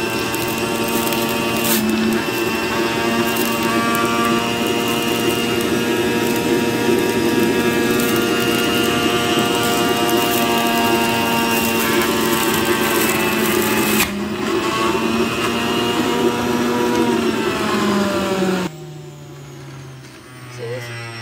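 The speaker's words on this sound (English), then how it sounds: "Pretty powerful juicer. He has no problem going through up and juicing it." An electric juicer processes a cucumber with a loud, steady motor whine and grinding hum that runs for a long stretch, changes pitch partway through, then drops to a quieter hum near the end.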